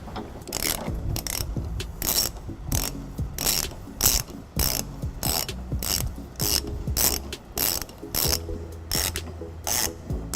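A hand ratchet spins out tow hook bolts under a 2014 Toyota Prius Plug-In during a trailer hitch install, making a steady run of quick, loud clicking bursts close up, with no talk.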